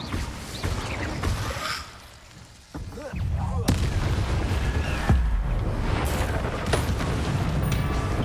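A fire spell being cast in the Hogwarts Legacy video game: repeated whooshing bursts and crackling impacts over a dense, rumbling game backdrop, with a brief dip into quiet before the blasts resume loudly.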